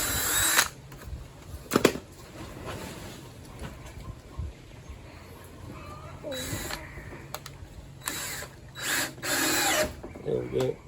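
A power drill whirs in several short bursts, driving a screw at an angle into wood during a wooden boat build, with brief pauses between runs, close up, with some clicks and handling noise.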